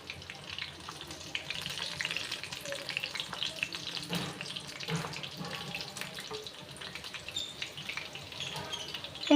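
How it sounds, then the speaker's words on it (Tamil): Boneless peri peri chicken fries in oil over medium heat, a steady, moderately quiet crackling sizzle with scattered pops throughout. "ஹையில் வச்சு பொறிக்க வேண்டாம் மீடியம் ஹீட்லேயே வச்சுக்கோங்க"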